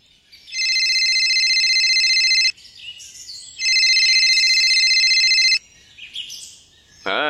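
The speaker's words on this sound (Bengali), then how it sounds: "তখনই পেরুর ফোনটা এলো।" An incoming call rings on a telephone in two long, loud, steady chirping bursts separated by a short pause, with a few brief clicks and sounds after the second ring.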